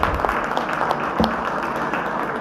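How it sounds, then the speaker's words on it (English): Applause from an audience at the opening ceremony of a large electric vehicle expo in Karnataka, India, a brief, loud spatter of many hands clapping continuously without voices. "Can we all give a huge round of applause?"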